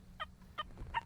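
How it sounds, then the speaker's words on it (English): An XP Deus 2 metal detector with a high-frequency coil sounds over a hammered gold coin at about six inches, giving three short, high chirping tones in quick succession, faint and alone. "the gold coin at 6 inches with the high frequency coil, sensitive full tones"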